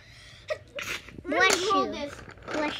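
A short, sharp sneeze bursts out near a child's chatter, followed by voices talking close by.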